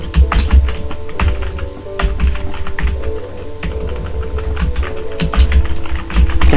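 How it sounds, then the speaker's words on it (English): Steady, rapid typing on a computer keyboard, with close key clicks and taps running continuously over a low background hum and no talking. "Now you can type text here like"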